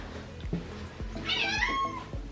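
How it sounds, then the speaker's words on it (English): A house cat meows once, clear and close, over a soft rhythmic thumping background, with no talking. "speaking of cat, let's see if Desiree cries to go to Panera"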